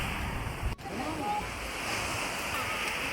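Sea waves at Shivrajpur beach near Dwarka, a steady broadband wash of surf with wind buffeting the microphone and a brief dropout partway through.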